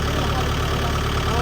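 A vehicle engine idles with a steady, even low rumble that holds at the same level throughout the short stretch, close to the listener.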